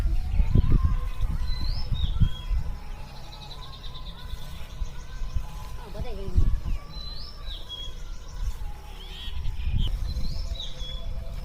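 Several wild birds, including bulbuls and mynas, chirp and call in short bright bursts at a temple feeding spot with scattered grain and water, with rustling and low handling noise nearby.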